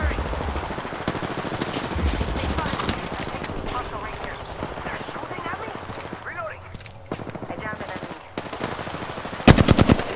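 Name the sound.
gunfire in the video game Apex Legends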